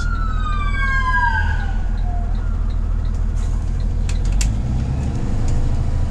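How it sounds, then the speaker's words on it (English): An ambulance siren wails from a bus, its sweeping tones sliding down in pitch as it passes, then giving way to a loud, steady engine rumble. "Ambulance coming."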